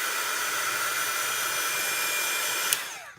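A handheld heat tool blows a steady, close hiss of hot air over stamped paper pieces for card making, running without a break and cutting off at the end.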